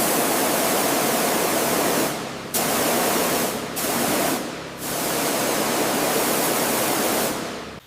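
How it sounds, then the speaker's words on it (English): A strong water spray blasts caked desert sand off an old abandoned pickup truck, a loud close hiss that cuts off briefly several times as the nozzle is released and restarted. "we need to wash away 20 years of baked-on desert sand"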